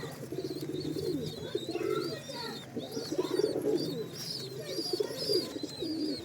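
Pigeons coo repeatedly in a loft or nesting area, with parents feeding chicks, steady overlapping low calls over faint higher chirps and constant background noise.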